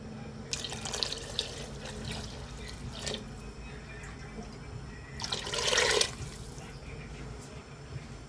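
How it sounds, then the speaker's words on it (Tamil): Tamarind water is poured into a pot of cooked lentils for rasam, giving a steady watery splash across the whole stretch with a stronger gush near the end. "அந்த புளி தண்ணியை இதில் ஊற்றிக்குவோம்"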